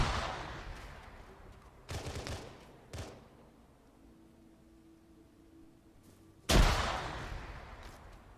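Frag grenades going off in Arma 3, a few sharp, fairly distant blasts spaced apart, each with a short rumbling tail, separated by quiet stretches.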